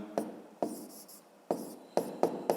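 A pen writes by hand on paper during a fifth-grade maths exercise, making short, sharp strokes and taps in an irregular rhythm, close and clear with quiet gaps between.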